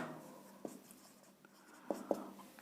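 Marker or chalk strokes squeak and tap on a board in short scattered bursts, with a few sharper taps near the end, close and fairly quiet with no talking.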